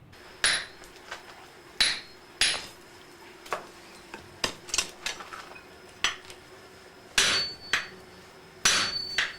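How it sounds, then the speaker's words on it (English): Hammers strike hot steel being forged into a sword, sharp ringing metallic blows in an irregular rhythm, some loud and close, others lighter, with short gaps between them and no voices. "Man, I could watch them hammer that hot steel all day."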